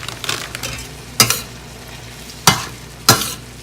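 Microwaved peas and carrots stirred into a hot pot, with soft sizzling and three sharp scrapes and clinks of a utensil against the pot, spaced about a second apart, close up with no talking.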